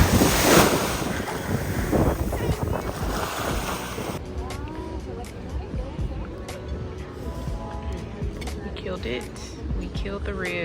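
Waves washing onto a private beach in Curacao, heard as a steady roar of surf with heavy wind buffeting the microphone, louder at the start and then settling into a softer wash.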